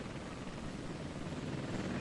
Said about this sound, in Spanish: 8 helicópteros Apache cargados con poderosos misiles dirigidos hacia Irak